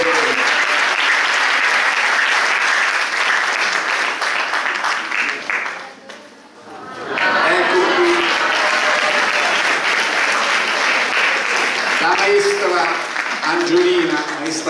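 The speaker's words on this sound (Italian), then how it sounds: "Quindi un applauso ad Armando, grazie." Sustained audience applause at a community anniversary celebration in Termoli, loud and steady, dipping briefly midway before swelling again, with voices faintly mixed in.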